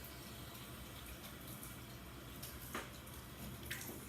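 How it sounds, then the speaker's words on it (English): Tap water runs steadily from a faucet as hands are washed, a continuous close hiss with a couple of brief splashes, no talking. "so let me wash my hands really quick"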